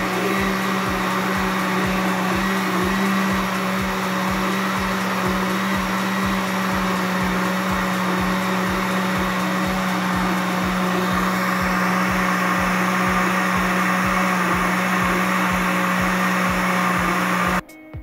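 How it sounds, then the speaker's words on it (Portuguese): A blender whirs steadily while mixing grape juice, milk and gelatin for a foamy chilled dessert, a loud continuous motor drone with a fast pulsing rhythm lasting about eighteen seconds before cutting off at the end. "Vamos bater por mais ou menos 2 a 3 minutos para ficar bem consistente e homogêneo."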